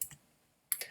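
Shift and Tab keys pressed on a computer keyboard while indenting code, two quick bursts of clicks, one at the start and one near the end, with silence between.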